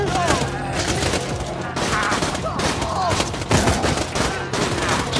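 Machine gun in Borderlands 2 fires rapid, dense bursts that are loud and close. Brief gaps split the bursts, and explosive thumps are mixed in.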